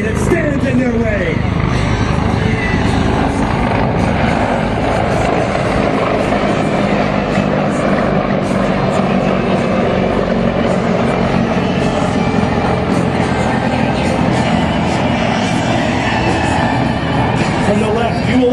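Military aircraft, including KC-130J Hercules refuelers with Hornets and Harriers, fly past at the Miramar MCAS airshow, a loud continuous engine roar and drone heard at a distance under a public-address commentator's voice.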